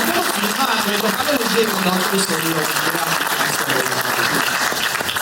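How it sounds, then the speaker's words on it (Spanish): Loud, steady applause from a crowd, sustained throughout with dense clapping and no pauses. "un aplauso para Daniel López Rossetti"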